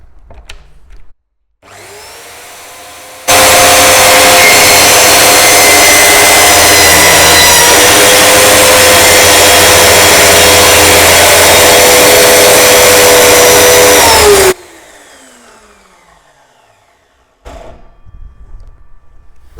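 A Parkside PTSS 1200 C2 plunge circular saw, used without a dust extractor, cuts a white-coated wood panel: a loud, steady high whine runs about eleven seconds, then winds down, with quieter motor hum and clicks around it.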